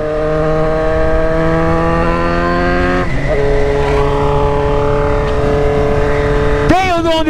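A Kawasaki Z900 RS motorcycle with a full straight-pipe exhaust roars loud and close, holding a steady buzzing drone that drops in pitch at a gear change, then ends with a sharp rising rev.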